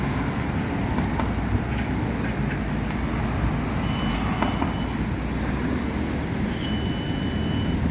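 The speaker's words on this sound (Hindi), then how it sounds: "पानी वाली गाड़ी है, फुल में पानी देती है सब वो वाली।" A water tanker truck reverses on a Riyadh road construction site, its reversing beeps sounding faintly in short runs over a loud, constant roar of nearby traffic and engine rumble.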